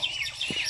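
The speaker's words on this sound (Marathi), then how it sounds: "पक्ष्यांचा झाडावर किलबिलाट चालू झाला आहे" Birds twittering in the trees at dusk, a steady wash of high, overlapping chirps with a few low thumps underneath.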